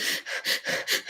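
A human voice imitates a dog's rapid panting: about five quick, even, breathy huffs in just over a second, close to the microphone, with no words.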